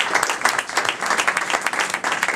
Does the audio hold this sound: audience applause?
yes